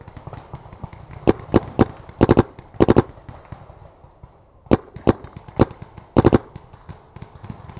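Paintball guns fire during an outdoor woodsball game, sharp pops coming singly and in quick double or triple bursts, spaced irregularly with brief quiet gaps between volleys.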